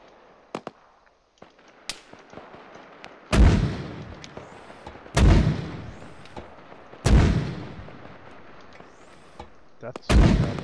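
Mortar fire in Arma 3 during a military game session: several loud booming shots spaced about two seconds apart, each with a rumbling tail, with a few smaller pops between.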